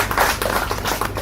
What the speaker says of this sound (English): So once again, the big round of applause for Vinod and Dr.